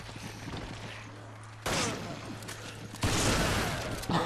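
Handgun shots in the video game Resident Evil 5 come as two sharp, loud bursts of gunfire with ringing decay, separated by quieter game ambience.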